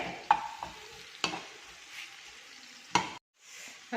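Curry is stirred in a pan, with faint sizzling, a few sharp spoon knocks against the pan and a brief silent gap near the end.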